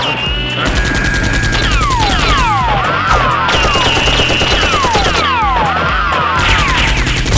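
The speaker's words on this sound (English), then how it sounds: "Xicman is severely wounded by Jack's gunfire." Intense gunfire fills a toy gun battle, with rapid, continuous volleys of loud shots layered with sweeping whistling sound effects and a dense background of clatter, steady and close throughout.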